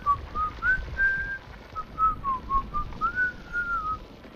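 A person whistles a wavering, halting tune in short notes over about four seconds, close and fairly loud, with no talk.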